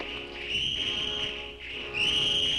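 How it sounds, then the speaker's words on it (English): A piercing high-pitched shriek of a giant locust in the film The Beginning of the End, sustained and wavering, briefly dipping before rising again louder. "Wait, it's a high-pitched shriek."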